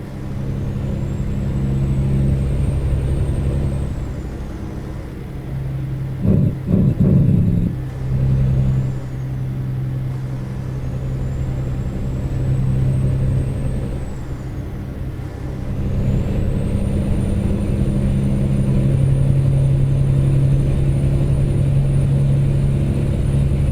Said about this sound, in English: Now that's a Jake brake.